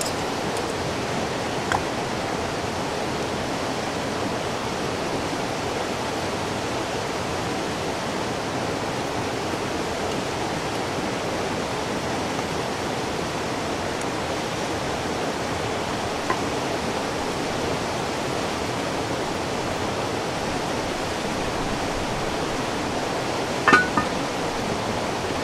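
Water flows along a creek outdoors in a steady, unbroken rushing hiss that holds at an even level throughout, with a faint click or two.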